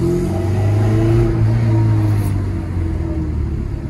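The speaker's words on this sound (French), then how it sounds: "il y a cet affreux bruit d'échappement" A Porsche 968 Clubsport engine runs smoothly with a loud, harsh exhaust, giving a steady close rumble that swells slightly, then eases without pause.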